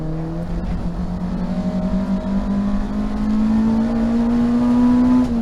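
A race car engine at Thruxton circuit drones steadily through a chicane, its pitch rising gradually as it accelerates, loud and close throughout with no talking.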